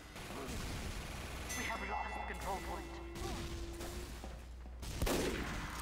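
A sniper rifle fires in Team Fortress 2 during a laggy match, with sharp gunfire cracks amid busy game noise. A louder, punchy shot hits near the end, and voices are heard in the background.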